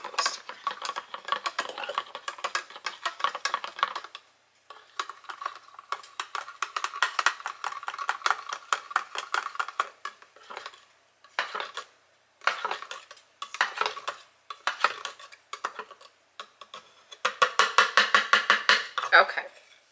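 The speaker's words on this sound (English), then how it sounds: "Give it a quick little stir." A spoon stirs sauce in a pot, rapid clinking and scraping strokes in bursts with short pauses, close and clear, loudest toward the end, with no speech over it.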